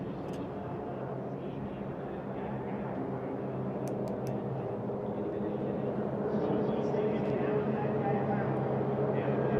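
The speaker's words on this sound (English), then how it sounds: "You see the pace plane pulling away, Tommy." Race airplanes and a pace plane at the Reno air races in 2023, a steady distant engine drone that swells slightly toward the end, heard under a broadband background.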